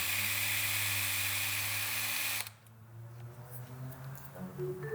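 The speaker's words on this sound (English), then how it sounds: "With the drill and the rod, the process is cut down to be much," Power drill spinning a rod wrapped in sandpaper to sand the fuller of a hand-built dagger, a steady loud whirring hiss that cuts off abruptly about halfway, leaving quieter room noise.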